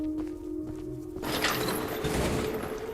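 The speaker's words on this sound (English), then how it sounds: "What the heck did that lever just do?" A lever mechanism activates in the video game Choo-Choo Charles: a steady hum gives way to a sudden loud mechanical clatter and grinding that rattles on continuously until the end.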